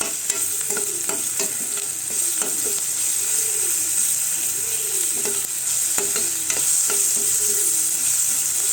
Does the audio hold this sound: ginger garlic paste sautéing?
yes